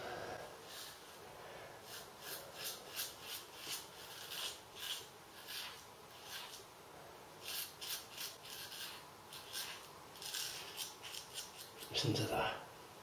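A Merkur Futur safety razor shaves through Arko shaving cream, giving quiet rhythmic rasping strokes in short bursts with pauses between, ending in a louder scrape.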